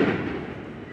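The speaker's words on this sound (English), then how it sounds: "Those are not gunshots, just firecrackers." Firecrackers going off outdoors on the 4th of July, a single dull boom with a rumbling tail that fades across the second.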